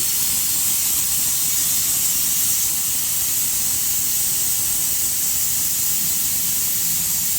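A pressure cooker holding black chickpeas vents steam in a loud, steady, continuous hiss that runs unbroken throughout.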